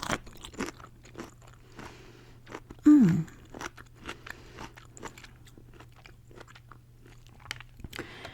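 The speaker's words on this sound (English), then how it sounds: "I want to taste this pickled radishes because I've never tasted them before" Crunchy bites and chewing of pickled radish served with sushi, with one loud, close bite near the middle followed by quieter chewing and small mouth sounds in a hushed setting.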